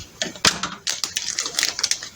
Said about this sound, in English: So I'm just going to cut off a corner